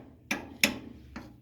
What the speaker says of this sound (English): Put it in there, give it a few whacks with a hammer